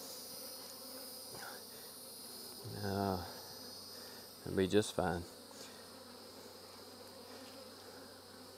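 A steady, low insect drone of honey bees around hives in a bee yard fills the background, with a voice speaking briefly twice over it.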